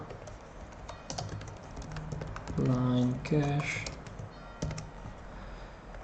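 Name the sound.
typing on a computer keyboard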